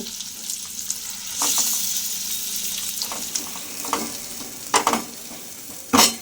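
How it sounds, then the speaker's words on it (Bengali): A spatula scrapes and stirs a thick green pea paste in a hot kadai, with steady sizzling throughout and a few louder clanks near the end. "এইবারে পেস্টটা আমি কড়াই দিয়ে ভালো করে নেড়ে চেড়ে নেব।"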